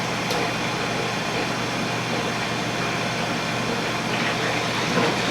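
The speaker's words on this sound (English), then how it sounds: "We're going to turn our mash pump on." Mash pump switched on for recirculating a one-barrel home-brew sour batch; a steady, loud motor hum with broadband whir runs continuously throughout, with no talk over it.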